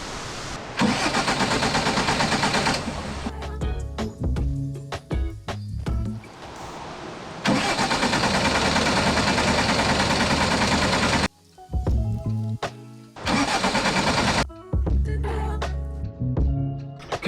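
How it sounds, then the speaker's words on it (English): A New Holland C232 skid steer engine cranks and turns over on a low battery, loud and close, with repeated long bursts of churning starter noise broken by short pauses and clicks. "Okay, so we have it cranking, turning over"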